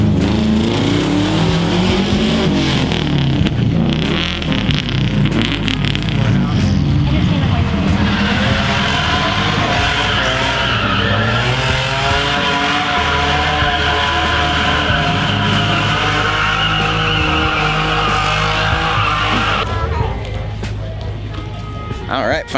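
An old work van does a massive burnout at a Turn N' Burn car show. A loud, sustained engine roar and hissing tire noise carry on for over twenty seconds, with crowd chatter and voices mixed in.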